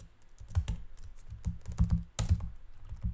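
Computer keyboard typing, a quick run of sharp key clicks and clacks in short bursts, fairly close and alone with no talking.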